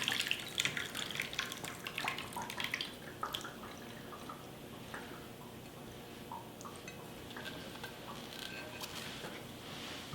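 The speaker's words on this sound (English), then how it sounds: "So I'm going to strain this out." Water runs and splashes steadily in a kitchen sink as a mixture is strained, with light clinks of dishes early on, fairly faint and continuous with no talk.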